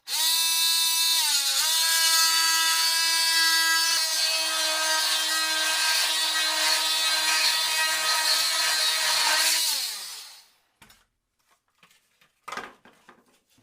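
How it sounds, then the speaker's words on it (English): An oscillating multi-tool cuts through a luan panel during a motorhome rebuild, giving a loud, steady, close-up buzzing whine for about ten seconds. The pitch dips briefly near the start, then the tool stops and a few handling clatters follow. "So I'm just gonna take the multi-tool here and cut her off."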